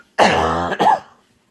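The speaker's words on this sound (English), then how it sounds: "Sorry about the cough." A close, raspy throat clearing from a person with a week-long cough, two harsh bursts in quick succession, then silence, on a golf course.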